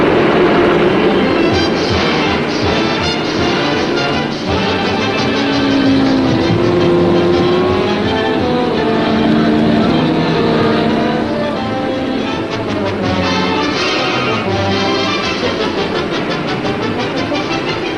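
Stock cars roar around the track at the 1951 Motor City 250-mile race, a loud, continuous engine drone with rising and falling pitch as cars pass, lasting throughout.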